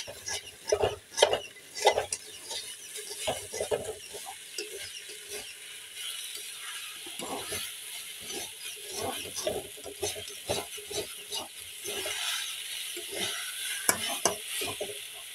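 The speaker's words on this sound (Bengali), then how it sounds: "এখানে আমি ভাজি করতেছি" Vegetable bhaji fries in a pan while a utensil stirs and scrapes against the metal, making irregular clinking strokes over a faint steady sizzle, close and fairly quiet.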